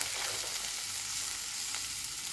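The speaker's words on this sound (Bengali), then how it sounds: "একটু ভাজা হলে আমি এবার সবজিগুলো দিয়ে দেবো" Vegetables fry in a pan for a fish curry, a steady close hiss and crackle of hot oil with faint stirring, heard alone without talk.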